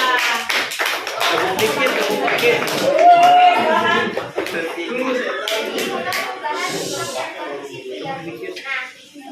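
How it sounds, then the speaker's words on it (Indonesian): A crowd claps in a brisk patter of applause, mixed with children's voices and chatter, the clapping thinning out toward the end. "tepuk tangan buat mereka."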